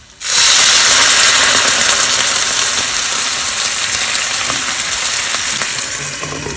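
Water poured into a hot pan of frying rice paper potstickers filled with walnut "meat" bursts into a loud, sharp sizzle that starts abruptly and then holds as a dense hiss, easing slightly as it goes, close up with no talking.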